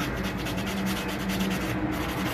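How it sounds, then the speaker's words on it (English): Steady, rapid rubbing of sandpaper against a tea cup being made into a bird feeder, a close, continuous gritty scraping in quick back-and-forth strokes with no talk. "I'm just sanding."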